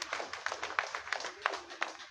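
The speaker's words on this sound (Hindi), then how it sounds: "जसबीर काद्यान जी के समर्थन में जोरदार तालियां बजा करके एक बार उनका स्वागत करेंगे" A small crowd at a Panipat political gathering claps to welcome Jasbir Kadyan, a brief patter of scattered, fairly faint hand claps without any talking over it.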